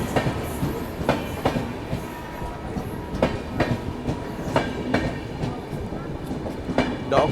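The Jan Shatabdi superfast express between Gudur and Vijayawada, hauled by a WAP7 electric locomotive, runs at speed with a steady rumble and rhythmic clickety-clack of wheels over rail joints, heard close and continuous.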